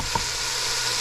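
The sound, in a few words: pigtails frying in a pot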